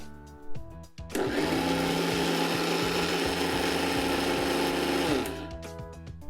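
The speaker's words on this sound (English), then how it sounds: "I can feel a little bit, so let's grind it a little more." A mixer grinder blending dosa batter, starting abruptly with a loud, steady high whine that runs for about four seconds before cutting off, close up with no talk.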